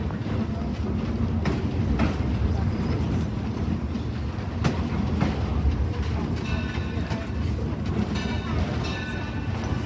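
A train rumbles along steadily at Greenfield Village with a low, continuous roar, occasional clicks and clanks from the rails, and faint squeals in the background.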